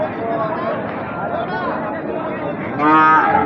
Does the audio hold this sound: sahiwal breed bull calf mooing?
yes